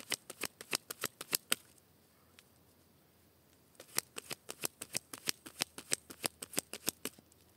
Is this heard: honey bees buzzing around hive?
no